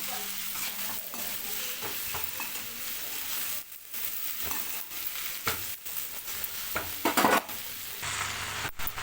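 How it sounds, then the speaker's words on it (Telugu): Okra fry is stirred in a hot pan. A continuous close sizzle runs under irregular scraping strokes of the spoon, with a few brief pauses and no voices. "ఇలా మొత్తం ఒకసారి కలిసేలా అయితే కలుపుకోవాలి"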